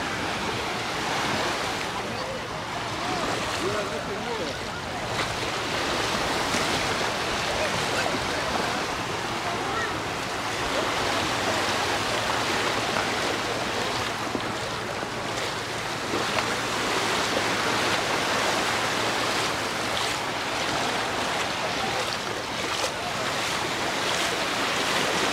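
Surf washes steadily onto a busy beach at Alcudia in summer, a continuous broadband roar of breaking waves with some wind buffeting the microphone and faint crowd voices far off.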